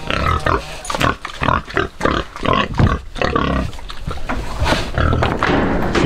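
Pigs on a farm grunt and squeal loudly and continuously while being fed, with overlapping snorts from several animals close by.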